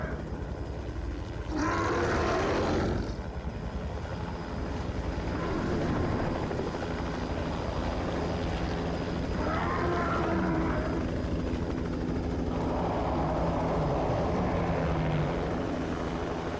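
A helicopter from The Thing Remastered video game drones with a continuous rotor and engine roar throughout, loud and steady with no speech.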